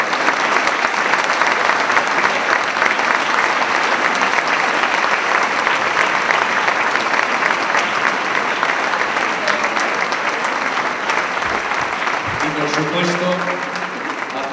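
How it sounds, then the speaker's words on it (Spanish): A concert audience at a charity Christmas Eve concert with a choral society claps in steady, dense, sustained applause that fills the hall, while a brief voice and a few tonal sounds rise near the end. "Así que un aplauso para ella."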